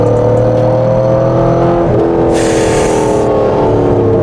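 A car accelerating on the road, its engine note rising steadily in pitch as the revs climb, loud and close from inside the cabin, with a broad hiss of wind and road noise swelling partway through and no talk.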